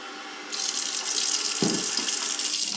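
Tap water runs steadily into a Keurig coffee maker's water reservoir as it fills, a close, continuous splashing stream that starts abruptly and keeps going, with a low knock or bump partway through.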